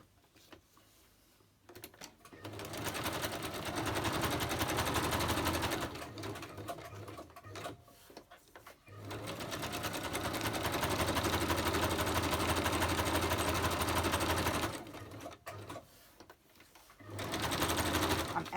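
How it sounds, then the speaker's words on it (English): A sewing machine stitches through cheesecloth in long, steady running bursts separated by short pauses, close and fairly loud, with no talking. "I need to get this here and stitch around there"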